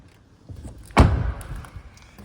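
Skoda Karoq SE Technology tailgate opening: a single solid thud as the latch releases, then a short fading rattle, close by with quiet surroundings.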